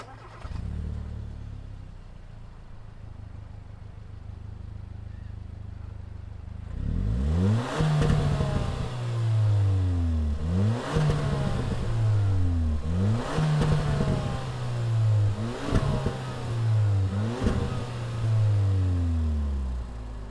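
After a low idle hum, a 2020 Hyundai Veloster Turbo hatchback engine catches and then revs repeatedly, rising and falling in pitch about six times, loud and close.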